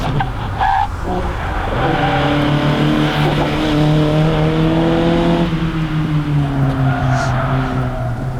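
An Opel sports car, Kadett GT/E or Manta B, driving hard on a race track, its loud engine holding a steady drone with shifting pitch, rising and settling through corners, with faint tire noise underneath.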